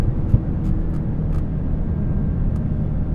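Engine of a manual car during a heel-toe downshift to third gear, a steady low rumble heard close, with a brief faint blip near the start and no talk.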